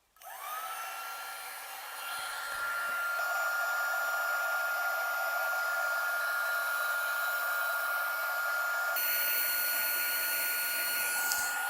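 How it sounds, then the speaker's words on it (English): Romech mini heat gun running on its low setting for shrinking tubing, a steady close hair-dryer-like blowing hiss that starts abruptly and holds evenly for over ten seconds without talk. "So I ordered this little heat shrink gun, and let's start on the low setting and see what happens."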